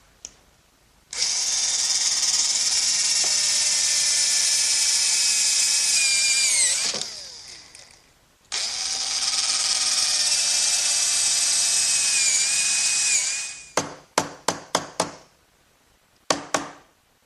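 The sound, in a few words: drilling with a brad point bit and chiseling wood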